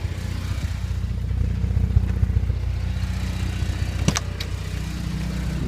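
A Porsche 924S inline-four ticks over at idle with the choke still partly on, a steady low rumble with a faint mechanical clatter, plus a couple of brief sharp clicks near the end.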